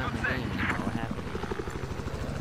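A helicopter in a multiplayer video game whirs with a steady rotor thump throughout, mixed under someone talking.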